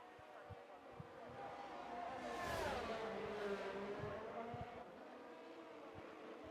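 A McLaren Formula 1 car in the F1 22 video game laps the Canada circuit, its high, whining engine note sweeping up and down as it brakes and accelerates through a chicane, fairly faint and continuous.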